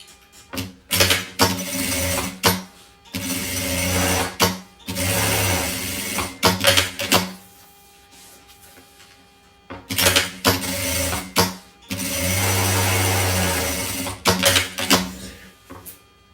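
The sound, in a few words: sewing machine stitching pencil case lining and fabric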